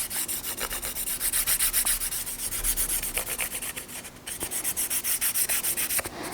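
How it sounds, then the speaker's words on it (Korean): A cloth-wrapped finger rubs oil into sanded wood along the grain in steady, close back-and-forth strokes, a soft rhythmic swishing friction repeating evenly with a brief pause midway. "손가락에 두르고 오일을 뿌려준 다음 우리가 다듬었던 목재에 나무 결 방향대로 발라줄 거예요."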